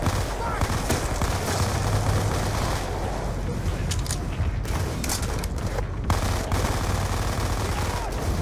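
Rapid-fire MP5 bursts ring out in Call of Duty: Black Ops 2, with dense, repeated automatic gunfire and scattered game blasts filling the mix while a player's voice talks over it.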